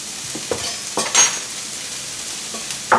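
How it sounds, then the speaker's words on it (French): Chorizo fries with onions and garlic in a pan, a soft steady sizzle broken by a few scraping stirs of a utensil against the pan, close by and with no talking. "Vous faites revenir votre chorizo avec les oignons et l'ail."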